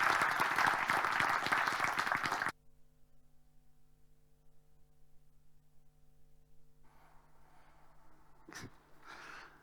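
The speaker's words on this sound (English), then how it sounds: "please a round of applause for General Allen." Audience applause at a GLOBSEC panel chat, a dense burst of clapping for the first two and a half seconds that then stops abruptly, leaving near silence with faint stirring and a brief knock near the end.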